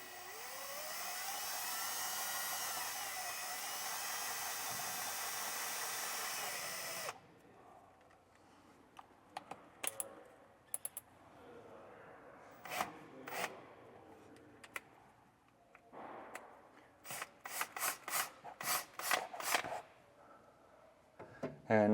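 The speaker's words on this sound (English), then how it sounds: "we are hitting that second roof layer, so we're going to drill through that" A power drill boring through the second roof layer of an enclosed trailer, a loud steady whirring for about seven seconds, then quieter intermittent clicks, scrapes and short bursts of handling noise.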